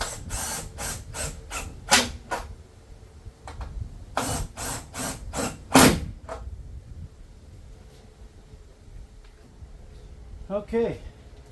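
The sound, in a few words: screws being put back into 2013 Toyota Prius tail light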